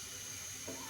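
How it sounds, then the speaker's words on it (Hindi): Water running from a tap into a cooking pot while preparing Punjabi kadhi pakora, a steady close splashing stream that continues alone for the whole moment with a brief louder gush near the end. "अब हम इसके अंदर मज़ीद पानी ऐड करेंगे, उसको फुल भर लेंगे"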